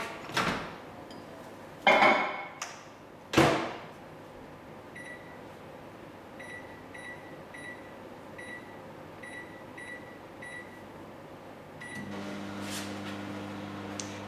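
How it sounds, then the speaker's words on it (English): A microwave oven is shut with a couple of loud clunks, then beeps several times as it's set and starts humming steadily, close and alone. "And pop in the microwave on high."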